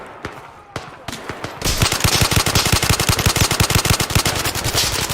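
An AK rifle fires in a VR shooter, starting with a few spaced single shots and then breaking into a loud, steady stream of rapid full-auto fire, close and dominant.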